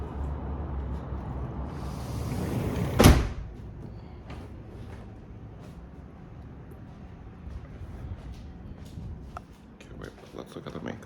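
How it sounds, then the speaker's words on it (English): A door being closed gives one sharp thud after a short rustle. Low indoor noise and faint movement follow. "Maybe I should close the door."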